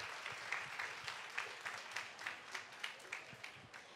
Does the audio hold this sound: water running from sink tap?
no